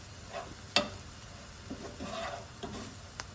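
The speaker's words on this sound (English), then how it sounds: "Just go ahead and mix it up." Seafood stuffing with basil in butter is stirred in a pan, quiet scraping strokes and a soft sizzle in a few separate bursts, close and with no talking.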